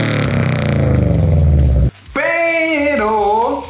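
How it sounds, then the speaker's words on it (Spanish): A Subaru boxer engine breathing through an unequal-length exhaust header gives a loud, deep, throbbing burble, then cuts out briefly before a rising, revving tone. "el característico sonido del motor de Subaru"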